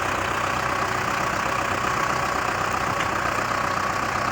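Belarus 510 tractor diesel engine idling in a field of maize stalks, a steady loud rumbling drone with faint knocking texture, continuous and close with no voices.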